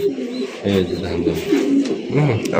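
Fancy racer pigeons, kept with eggs and chicks, cooing close by in low throaty rolling calls, with people talking at the same time.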